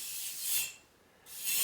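A small trowel spreads thin-set mortar on a shower curb, two soft rasping scrapes with a short pause between, close but quiet.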